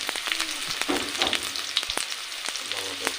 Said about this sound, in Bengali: আলুটাকে লাল করে ভেজে নেবো